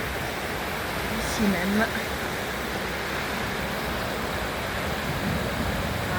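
Waterfalls at Bellecombe on a snowy morning give a steady broadband rush of falling water, while a voice briefly speaks a couple of words over it.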